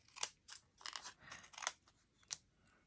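Scissors snipping through paper card pieces for a Stampin' Up! card, a series of crisp, close, quiet cuts in an uneven rhythm, alone without talk.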